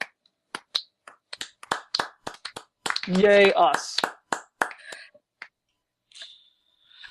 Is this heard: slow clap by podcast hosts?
yes